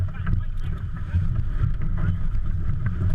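Wind and water rush past sailboats jockeying for position at the start of a race on Chesapeake Bay, a steady, close, blustery rumble with no clear voices.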